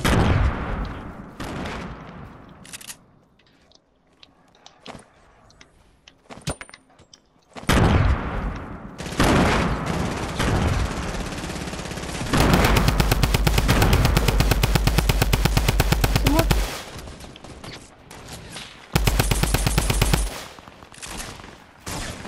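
Rapid sniper and automatic gunfire in the Fortnite video game, in loud sustained bursts with heavy low-end booms, separated by quieter stretches and scattered single shots.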